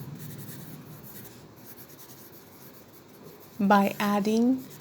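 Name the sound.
writing on a board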